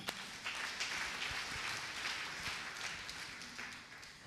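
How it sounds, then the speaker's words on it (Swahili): A church congregation claps for God during a Sunday service, a dense, even patter of many hands heard from a distance that keeps going without a break. "Na tumpigie Mungu makofi mazuri."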